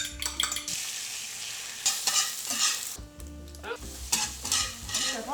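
Breakfast food cooking in a pan, sizzling and frying steadily while a utensil stirs and scrapes against it in repeated bursts, with occasional clinks of cutlery, close and clear with no talking.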